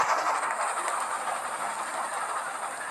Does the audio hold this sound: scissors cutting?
no